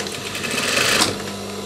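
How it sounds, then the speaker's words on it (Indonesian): Sewing machine stitching the thick cuff of a denim jacket, a steady close whirring run of rapid stitches that swells slightly mid-way and continues without talk. "Jadi kita lanjut sesuai jahitan 1 cm tadi"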